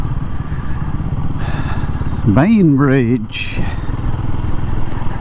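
A motorbike engine rumbles steadily on a ride down into Bainbridge in the Yorkshire Dales, staying under a voice as he talks over it.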